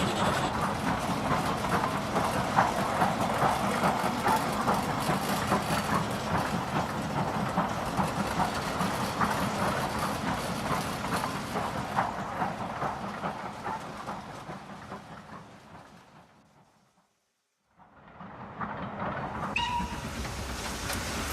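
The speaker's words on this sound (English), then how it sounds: "It is headed by N-Class Mogul number 1855 and is running in reverse." A model railway N-Class Mogul steam locomotive, number 1855, runs in reverse with a steady rolling clatter and hiss, fading to near silence before the running sound picks up again.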